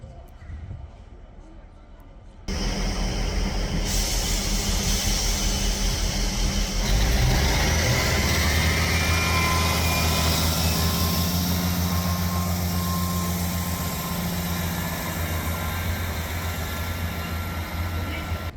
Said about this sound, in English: And out of the blue, we have a goods train sitting here.